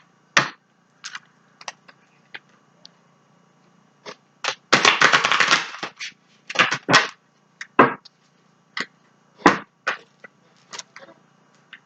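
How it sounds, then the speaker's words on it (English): Stiff tarot cards are shuffled by hand, giving scattered dry snaps and clicks and one dense riffling burst near the middle. The sound is close-up, with quiet pauses between handlings and no talking. "These cards are really, really stiff too."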